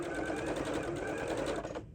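A sewing machine stitches a fabric heart in a rapid, even run of needle clatter lasting under two seconds, close and moderately quiet, then stopping.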